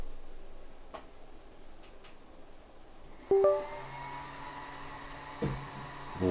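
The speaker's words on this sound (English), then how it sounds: "So I'm going to turn the laser on now." Laser engraver powering up and homing over painted plywood: a few faint ticks, then a sudden switch-on at about three seconds followed by steady mechanical hums and whirring tones, with another brief motor burst near the end.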